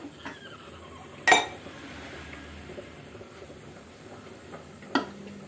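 Eggs go into a clay pot of fenugreek curry, marked by two sharp, close clinks a few seconds apart over a quiet background.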